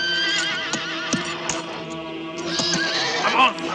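Horse neighing in a 1981 horror film, a loud wavering whinny at the start and another shrill one near the end, with hoof clops and a film soundtrack underneath.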